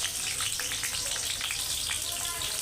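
Onions frying hard in well-heated oil for a chicken curry, a steady close sizzle with crackling bursts running throughout, while a voice talks over it.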